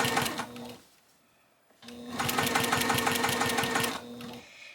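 A sewing machine runs steadily while stitching a quilt seam along the sashing, a brief burst followed by a pause and then a longer, even run of rapid needle strokes, close and clear.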